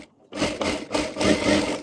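Short bursts of a sewing machine stitching blouse fabric, three or four quick runs separated by brief pauses, close and fairly quiet.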